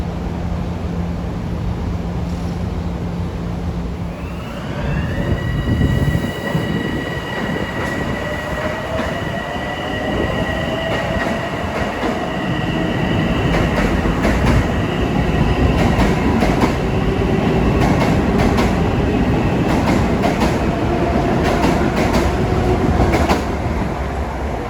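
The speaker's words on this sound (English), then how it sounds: "One of the rare trains out of Penn Station going to Far Rockaway." A Long Island Rail Road M9 commuter train runs through Kew Gardens at rush hour, rising into a loud, sustained rumble with steady whining tones, rail clatter and wheel squeal as it passes close by.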